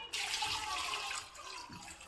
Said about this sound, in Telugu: ఈ టైంలో వాటర్ యాడ్ చేద్దాము